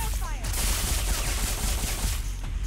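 Rapid automatic gunfire in the video game Lifeline, a dense, loud, continuous burst of shots filling the whole moment, with a faint voice beneath.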